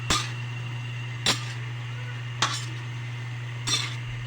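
Adobong kangkong with tokwa being stirred in a pan: four sharp utensil-on-pan clinks spaced about a second apart over a steady low hum, no talking.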